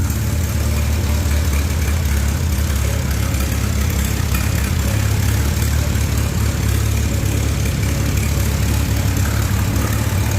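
An old tractor engine with a mower deck runs steadily nearby, a loud, constant low rumble that carries on unbroken with no talk.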